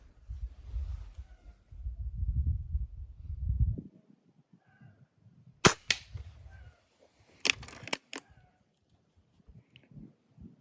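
An IZh-38 air rifle fires a sharp, snappy shot, followed a couple of seconds later by a quick cluster of clicks and metallic snaps; low rumbling precedes it.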